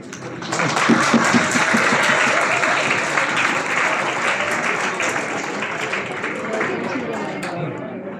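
Dense, sustained applause from a ceremony audience at a physics conference's valedictory function, steady and loud for several seconds before thinning slightly at the end.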